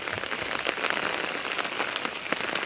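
Heavy rain pours down steadily during flooding, with a dense, even patter of drops hitting surfaces close by and no voices.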